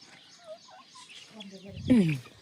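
Faint scattered peeping of small chicks and soft hen clucks in a morning farmyard, then a louder clucking call near the end; quiet background voices murmur underneath.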